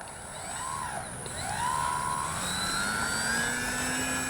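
An E-flite P-51D 1m electric RC warbird takes off, its motor whine rising and sweeping in pitch as it accelerates and climbs away, steady and moderately close.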